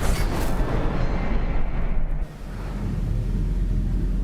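An Incendio fire spell from the Hogwarts Legacy video game, a roaring whoosh of flame with a low rumbling body that holds steady for a couple of seconds, then settles into a softer crackling burn.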